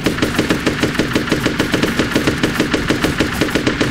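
Rapid automatic gunfire rattles nonstop in the Badiya video game as a lizard gets shot at, a steady fast train of sharp close shots with no speech over it.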